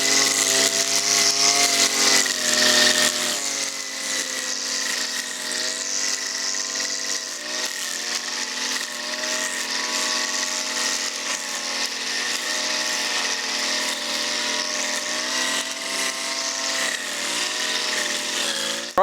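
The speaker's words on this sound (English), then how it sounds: "so I'm still out here strimming" A string trimmer cuts grass in a garden with a loud, continuous high whine that holds steady for the whole stretch and slightly shifts in pitch as it works through the growth.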